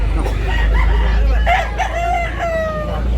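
Roosters crowing amid a busy chicken market in Tabunok, Talisay, Cebu, with several overlapping crows and clucks over constant crowd murmur and nearby voices.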